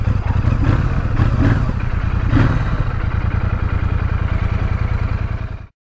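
A Royal Enfield Super Meteor 650 motorcycle engine runs close by with a steady, throbbing low rumble and slight clatter, holding even before cutting off abruptly near the end.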